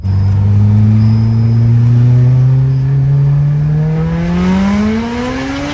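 A Honda Civic Type R EP3 engine revs loud and close from inside the cabin, its pitch climbing steadily through one long hard acceleration with no talk.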